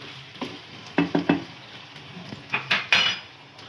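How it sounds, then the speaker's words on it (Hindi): Potatoes being fried and stirred in a pan for aloo methi, with a spoon scraping and clinking against the metal in irregular bursts over a faint sizzle. "अब हम आलूओं को अच्छी तरह से भूनेंगे"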